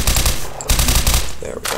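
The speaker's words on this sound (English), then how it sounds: "I love suppressed assault rifles and SMGs." Suppressed SMG fire in Garry's Mod, with two rapid bursts of muffled automatic shots close up, followed by a brief pause and another short burst.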